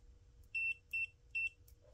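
Continuity beep from a Leolov MT2202 touchscreen multimeter: three short, clear electronic tones in quick, even succession over a quiet background.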